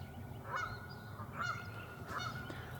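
A goose honks three times at a steady pace, fairly near and clear above a low outdoor rumble during a turkey-calling outing.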